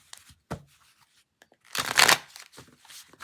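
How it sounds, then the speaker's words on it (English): A deck of playing cards being shuffled: a quick riffle burst, then a louder, longer cascading riffle, close and crisp, with no talking. "Let's see if I can get these to shuffle."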